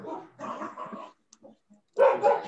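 Dogs bark in short bursts, a few loud barks at the start and a stronger pair at the end, with a quiet gap between and no voices.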